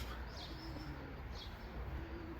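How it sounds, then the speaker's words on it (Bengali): Pigeons coo softly on a hilly street in Portugal, with a couple of low, faint calls over steady outdoor background noise. "কবুতর"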